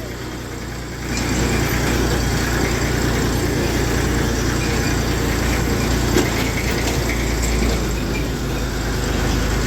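Tractors pass by on a road toward a sugar mill, a steady loud engine drone that rises after the first second and holds without talk.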